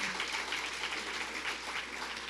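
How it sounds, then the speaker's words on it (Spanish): A church congregation applauding together at a Sunday school service, a steady, dense patter of many hands clapping at moderate distance, continuous and even with no voices standing out. "Y si lo van a aplaudir, apláudanlo con entusiasmo,"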